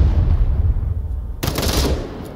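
AK-5C rifle fire in the VR shooter Onward comes as a sudden loud burst of rapid shots that cuts in partway through, breaking a low rumbling background.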